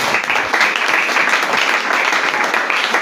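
A church congregation applauds, dense loud clapping that holds steady throughout with no breaks and no voices.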